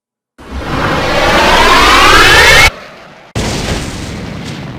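A huge explosion in the visual novel Dies irae, set in Berlin in 1945, heard as a loud sustained roaring boom that swells over two seconds, cuts off briefly, then resumes as a heavy rumbling blast.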